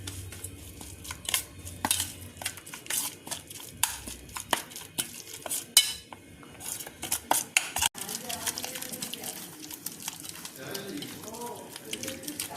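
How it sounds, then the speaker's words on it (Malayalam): Quail marinade with salt and egg being stirred in a bowl, a soft, faint run of scraping, clicking and squelching strokes, with a voice talking over it. "അപ്പോൾ ഇതെല്ലാം കൂടെ നമുക്ക് നന്നായിട്ടൊന്ന് മിക്സ് ചെയ്തെടുക്കണം"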